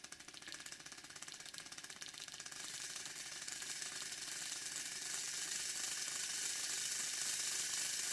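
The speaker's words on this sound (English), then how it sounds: "Those wheels are turning very nicely." Wheels of a model Class 50 locomotive turning, giving a faint, steady mechanical whirring and ticking that grows slightly louder as it runs.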